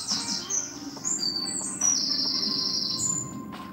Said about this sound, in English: Neighborhood birds are on my roof.